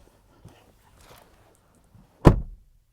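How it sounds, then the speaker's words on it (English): A faint latch click, then after a pause a single loud, solid thunk of a 2022 Acura RDX door shutting from outside, followed by silence. "let's just do a quick door open and close sound from the outside"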